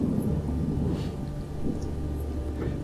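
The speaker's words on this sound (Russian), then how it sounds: "Чуть дождь пошел." Rain and thunder in the video game Witch Hunt, a steady low rumble with a continuous wash of rainfall, no voices.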